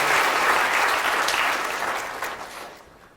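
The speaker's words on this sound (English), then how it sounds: "Can we have a big round of applause?" An audience at a science lecture breaks into strong, dense applause that holds steady and then gradually tapers off toward the end, with no voices over it.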